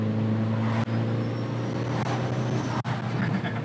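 Turbocharged NB Mazda Miata with a recirculating diverter valve, a steady loud engine drone heard from inside the car, broken by two brief dips where the throttle lifts and the valve briefly whooshes.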